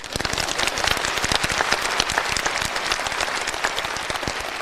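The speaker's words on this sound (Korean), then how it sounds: "박수." A crowd applauds with dense, steady clapping that continues throughout, loud and close, with no voices standing out.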